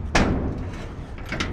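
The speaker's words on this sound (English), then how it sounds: "So you have your regular barn doors," A barn door on the back of a trailer is swung shut, giving a sharp slam followed by rattling thuds and a second knock.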